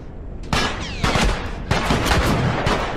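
Loud, close gunfire in The Last of Us: several heavy bursts of rapid shots come in waves, with a sharp whizzing sweep between them and no talking.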